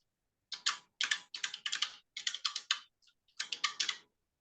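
Password typed on a computer keyboard into accounting software, crisp close keystrokes in quick runs of several clicks separated by brief pauses, no talking.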